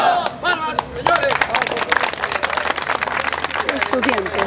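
Environmental engineering students occupying their faculty building clap in a crowd, a dense run of rapid, uneven handclaps with shouting voices over it.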